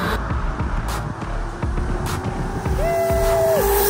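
An E-BOX 2.0 electric pit bike at full throttle in its highest power mode, a continuous loud whine and rushing wind noise that holds steady, with a rising tone near the end and no talk.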